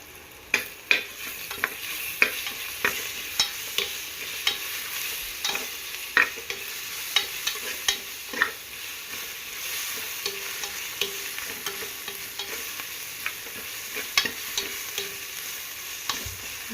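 Onions with ginger garlic paste sauté in a pan for chicken curry, a continuous close sizzle broken by regular scraping stirs of a spoon against the pan.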